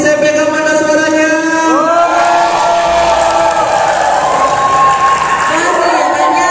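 A school hall audience of student council members cheers loudly, a dense wash of shouting, whooping voices and clapping that holds strong for the whole stretch.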